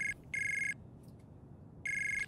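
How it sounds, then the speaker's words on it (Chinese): A phone ringtone rings in a room, with three clear electronic ring bursts separated by pauses over a low background hum, and no one speaking. "你等我一下，我接个电话。"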